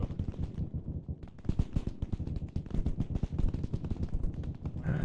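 Rapid bursts of machine gun fire crackle through an Arma Antistasi firefight, dense overlapping volleys from several guns, loud and near, continuing almost without pause for the whole stretch.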